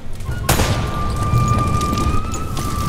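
A single sharp gunshot cracks out in Uncharted: Drake's Fortune, followed by rumbling booms and a steady background hum of game combat.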